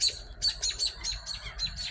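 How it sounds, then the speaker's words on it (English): Small birds mob a hawk perched in a tree, giving a rapid series of high, thin chirps in quick bursts, fairly close and clear over faint background noise. "he's being harassed by all the other birds over here"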